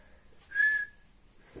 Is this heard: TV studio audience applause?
no